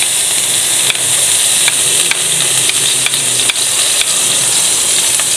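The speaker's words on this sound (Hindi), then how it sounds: "ऑयल गरम हो गया, हम इसके अंदर लहसुन डालेंगे जो हमने काट के रखे थे।" Chopped garlic hitting hot oil in a pan while cooking chicken lasagna, giving a steady, loud broadband sizzle with a few sharp stirring clicks scattered throughout.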